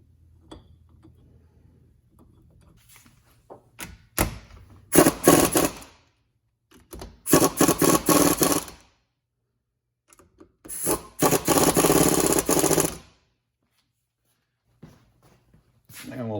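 An 8mm socket on a ratchet tightens a bolt on a direct-mount power steering pump adapter during a Cummins B Series swap, giving several bursts of rapid, close clicking separated by silence.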